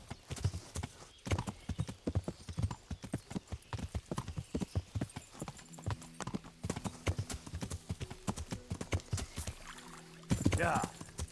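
A horse's hooves clip-clop steadily in the medieval video game Kingdom Come: Deliverance, crisp close rhythmic steps throughout, with a brief whinny near the end.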